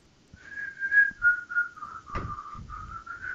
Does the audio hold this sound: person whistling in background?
yes